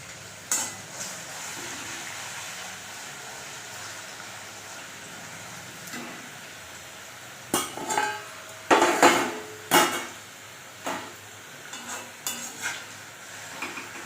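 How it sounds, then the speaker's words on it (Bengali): Small potato slices frying a little at a time in hot oil in a wok for Bengali potato chips, with a soft steady sizzle broken by clattering stirs and scrapes of a utensil against the pan. "তেল গরম হয়ে গেছে, আমি এটা অল্প অল্প করে ভেজে নেব।"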